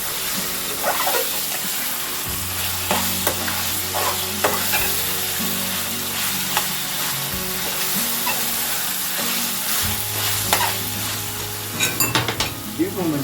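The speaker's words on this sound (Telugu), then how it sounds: "అల్లం వెల్లుల్లి పేస్ట్ వేస్తున్నాను చూడండి" Ginger garlic paste sizzles and fries steadily in a hot pan, with a spoon or spatula stirring and scraping at intervals; no voices over the close, continuous cooking sounds.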